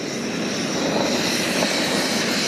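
A steady, loud roar of a camping stove burner, a constant rushing hiss with a low rumble underneath, no pauses and no voices.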